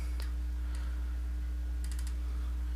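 Typing on a computer keyboard while entering logo text for a business card design in Photoshop CS6: two short bursts of key clicks, a few taps early and a quick run near the end, close and fairly quiet over a low hum.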